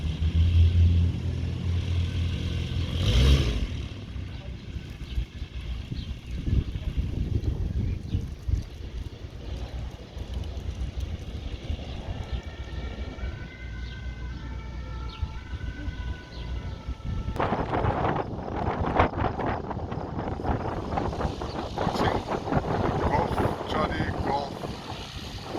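Light aircraft G-CGNH taxis before takeoff: a steady low engine drone, fairly faint, under heavy wind buffeting on the microphone, with a brief tonal whine partway through and louder rumbling near the end.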